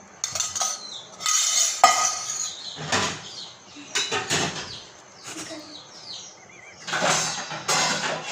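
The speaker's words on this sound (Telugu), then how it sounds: "గుడ్డును కొద్దిగా ఆమ్లెట్లా అయ్యాక బాగా కలపాలి" Metal utensil scrapes and clinks against a kadai while egg is stirred into an omelette-like scramble for homemade fried rice, in uneven bursts of clatter with short pauses between strokes.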